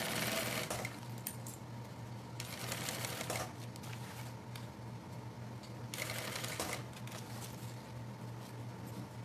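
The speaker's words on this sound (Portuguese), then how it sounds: "Aqui agora a gente costura sempre na borda, porque a gente sabe que o vivo tá na borda" A sewing machine stitches along the piped edge of a backpack, a quiet run of rapid mechanical needle clatter in two bursts with a low steady motor hum throughout.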